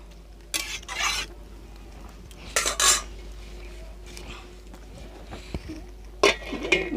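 A pot of banana flower and potatoes being handled and covered with a lid, a few separate close metallic clanks and scrapes set apart by quiet gaps, the last one a lid settling.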